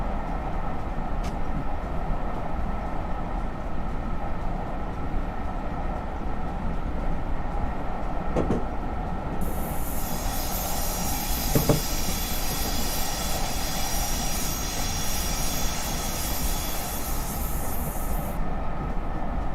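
A simulated Metrolink or Amtrak passenger train rolls steadily along a Los Angeles route in Trainz Simulator Classic, with a constant rumble and wheel noise, faint clicks over rail joints and a high wheel squeal partway through.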